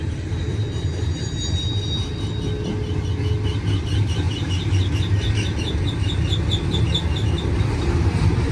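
A BNSF freight train led by four SD70MAC locomotives in executive paint rolls steadily past close by, its loud continuous rumble of wheels and cars running through with faint squealing near the end.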